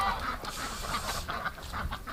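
Ducks or geese in a pen honk and cackle continuously, a close, busy flock chorus with overlapping nasal calls throughout.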